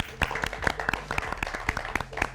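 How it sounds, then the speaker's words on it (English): A studio audience at a televised cricket quiz show claps in a brief, close round of sharp, irregular hand claps. "you all deserve another round of applause"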